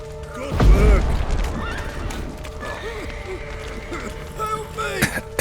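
Horses in the video game The Witcher 3: Wild Hunt whinny and neigh repeatedly over clattering hooves and busy background noise, with several calls overlapping at close range.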